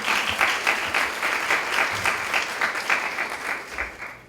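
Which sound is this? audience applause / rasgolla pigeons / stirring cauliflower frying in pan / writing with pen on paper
audience applause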